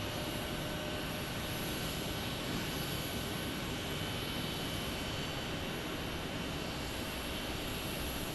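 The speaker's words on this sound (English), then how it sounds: "I think WestJet will be able to see the tail is taxiing now." A WestJet airliner taxis at Phoenix Sky Harbor airport, its jet engines producing a steady, loud broadband roar with a high whine that holds constant throughout, with no talking.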